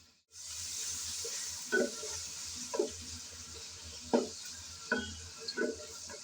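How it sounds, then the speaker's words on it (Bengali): Chopped onions fry in oil with a steady hiss that starts abruptly, punctuated by about six distinct scraping stirs of a spoon against the pan. "পেঁয়াজ কুচি নেড়ে চেড়ে ব্রাউন কালার করে ভেজে নেব"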